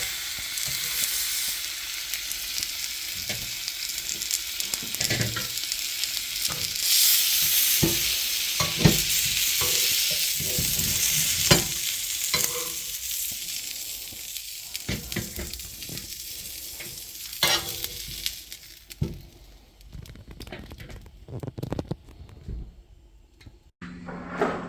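Venison shanks sear in a hot pot with loud, continuous close sizzling and frying crackle, broken by sharp clanks and stirring scrapes, before the sizzle fades to quieter bubbling near the end.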